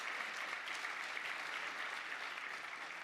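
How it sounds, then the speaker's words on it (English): Quiet, steady audience applause at a conference award presentation, a uniform texture of many hands clapping heard from a distance for about three seconds. "That deserves a round of applause."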